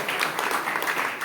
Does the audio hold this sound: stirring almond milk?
no